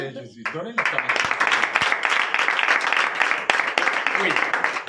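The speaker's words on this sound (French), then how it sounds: "J'aime quand on applaudit mon Seigneur." A congregation claps during a night deliverance church service in Comè, Benin, a steady dense burst of applause that starts after a brief pause and continues under raised voices.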